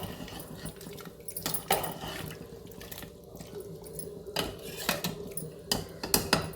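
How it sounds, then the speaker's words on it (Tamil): A spoon clatters and scrapes against a pot as aloo mutton curry is stirred after water is added, giving irregular metallic knocks with wet sloshing and no speech. "தண்ணி சேர்த்துட்டு நல்லா கலந்து விட்டுட்டு"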